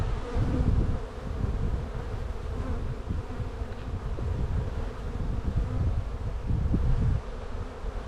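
Honeybees drone around an open hive frame in early spring, a dense, steady low buzz from many insects close by, swelling slightly at moments and heard alone without talk.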